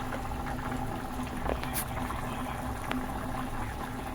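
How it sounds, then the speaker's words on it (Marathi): Malvani-style makul fish curry with kokum bubbling at a rolling boil in a pot, giving a steady, even bubbling hiss that carries on alone without any talk. "तर मित्रांनो आता उकळ पण आलाय मस्तपैकी"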